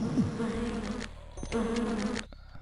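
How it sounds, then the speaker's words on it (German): Flying creatures buzz in the Lands of Lore video game, a dense insect-like drone that swells, drops briefly, then returns. It plays alone at moderate loudness, with no talk over it. "Vielleicht sind da ja auch die Fliegeviecher."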